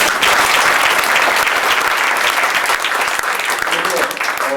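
A crowd at a 2003 prayer meeting in a Seoul hotel ballroom gives sustained, dense applause, loud and steady for the whole stretch, with no one speaking over it.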